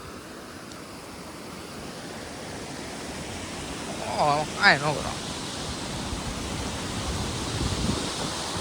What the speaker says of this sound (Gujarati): અવાજ કેટલો પાણીનો આવે એકવાર તમે જુઓ